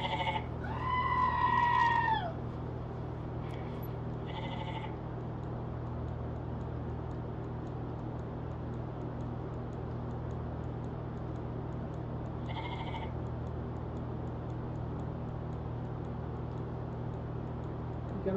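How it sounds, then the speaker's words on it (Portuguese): Goats bleat nearby: one long, wavering call at the start, followed by two shorter bleats a little later, all over a steady low background hum with no speech. "Ele tá possuído pelo capeta, esse bode."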